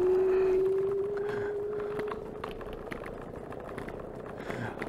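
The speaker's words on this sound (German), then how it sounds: "Also ihr seht, der Motor, der hat schon ein bisschen Kraft." HITWAY H5 EverCross electric scooter (48V, 10Ah, 480W) motor runs with a thin steady whine that slowly climbs in pitch, then fades into rough background noise after a couple of seconds.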